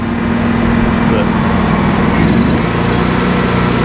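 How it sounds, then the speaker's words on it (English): A gasoline engine on a Trailblazer 325 welder revs up, running loudly and steadily nearby, a constant droning hum with a slight rise in pitch, no pauses. "you can hear the welder revving up"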